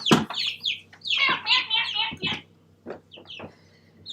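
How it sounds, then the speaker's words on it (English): Baby chicks cluck and chirp in short high bursts and a longer run of peeps, fairly close, with no talking over them. "Oh, chickens!"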